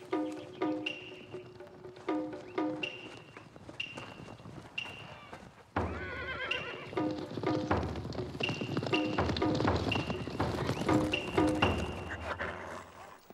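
Horse hooves clopping and shuffling on the ground at a moderate distance, with voices talking and a horse snorting amid the movement.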